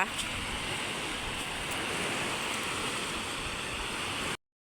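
Steady roar of sea waves and surf on a shore where fishing boats land, broad and continuous with a windy hiss, no talk, cutting off abruptly near the end.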